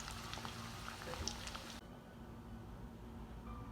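Food deep-frying in hot oil gives a steady bubbling sizzle, fuller at first and then settling to a quieter, even hiss with a low background hum, and no one speaking.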